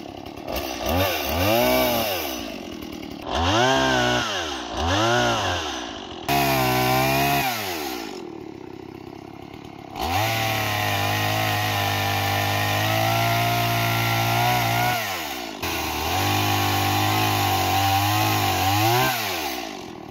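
A small chainsaw cuts wood while land is cleared for a cabin in Alaska, its engine revving up and falling back in several bursts before settling into long steady high-pitched cuts, loud and close, with brief idle gaps between.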